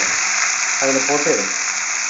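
Ground tomato, ginger and garlic paste frying in hot oil, a steady bright sizzle that hisses on throughout, with a short voice speaking briefly over it partway through.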